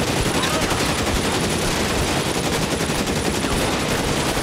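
Dense, rapid gunfire in the L.A. Noire video game, with bursts of shots running nonstop and loud from start to finish.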